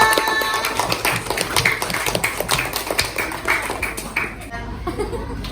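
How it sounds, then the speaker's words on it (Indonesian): A school class claps hands for a classmate named Cinta, a quick run of sharp, uneven claps close by, with voices and laughter mixed in throughout. "Tepuk tangannya buat Cinta."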